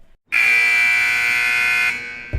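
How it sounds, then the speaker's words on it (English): A loud, sustained electronic buzzer blares for over a second and a half, then cuts off abruptly. "that's the sound of the buzzer"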